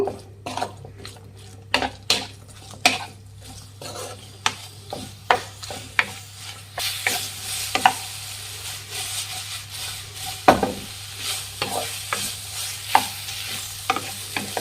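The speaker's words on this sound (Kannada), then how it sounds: "ಮೀಡಿಯಮ್ ಫ್ಲೇಮಲ್ಲಿ ಉರಿ ಇಟ್ಕೊಂಡು ಮಿಕ್ಸ್ ಮಾಡಿ" A soy sauce and vinegar mixture is stirred in a pan over a medium flame, with rhythmic scraping and tapping strokes roughly every half second over a soft sizzle that swells in the second half, and nobody talks.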